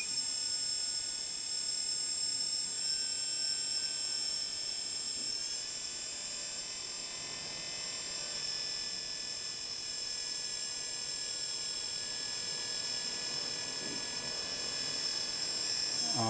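The hydraulic crane arm on a 1/14-scale LESU 8x8 RC hooklift dumper truck withdraws with a steady, high electric pump whine that holds evenly and close throughout, with no talking.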